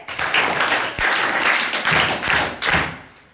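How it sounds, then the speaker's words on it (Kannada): A school audience of ninth-grade students claps for the winning team at a quiz event, a dense burst of applause with a few louder thumps that swells in waves and fades at the end. "ಇವರಿಗೆ ಮತ್ತೊಂದು ಚಪ್ಪಾಳೆ."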